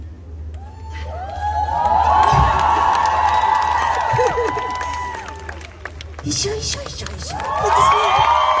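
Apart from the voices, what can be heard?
concert audience applause and cheering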